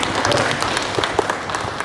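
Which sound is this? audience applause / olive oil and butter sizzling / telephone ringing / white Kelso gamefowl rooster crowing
audience applause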